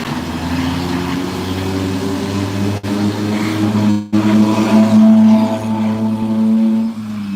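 A steady, low car engine drone rumbles throughout, with a brief dropout partway, like a car idling or passing close by on MacArthur Highway in San Fernando, amid motorcycle and tricycle traffic.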